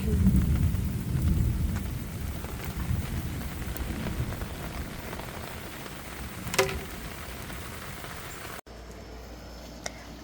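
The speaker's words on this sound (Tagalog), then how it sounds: "Ayan, umuulan na naman." Steady heavy rain pours down in a dense hiss, with a faint distant rumble and a brief louder patter partway through.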